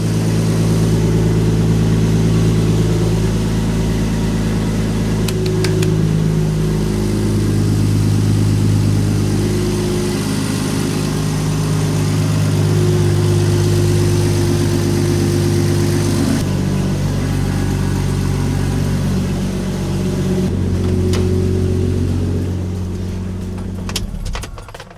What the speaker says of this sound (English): Single turbo on the car. Idling, it's working.